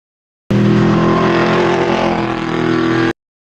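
A DTM Audi race car's V8 engine holds a loud, steady, buzzing drone for a few seconds. The sound cuts in and out abruptly, and no one talks.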